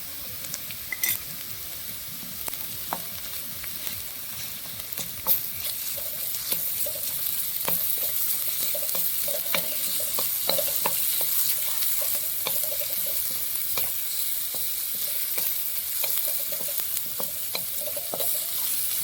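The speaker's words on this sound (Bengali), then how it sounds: "পেঁয়াজ কুচি একটু ভেজে লাল লাল করে এর মধ্যে দিয়ে দিচ্ছি রসুন বাটা।" Chopped onion and garlic paste fry in oil in a wok, a continuous bright sizzle with scattered crackles and the scrape of stirring, close and fairly even throughout.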